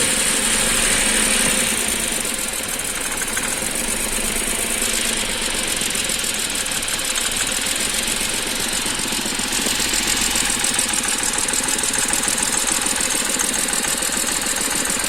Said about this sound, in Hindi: देखो इंजन पूरा हिल रहा है थोड़ा थोड़ा।